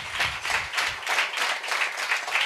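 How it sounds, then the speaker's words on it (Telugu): A church congregation claps loudly in steady rhythmic bursts, many hands striking together in a regular beat, close and energetic with no talk over it. "చప్పట్లు కొట్టండి గట్టిగా, గట్టిగా చప్పట్లు"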